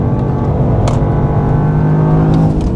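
A 2024 Toyota GR Yaris driving on a track makes a loud, close, steady engine drone that holds throughout, with only slight changes in pitch and no voices.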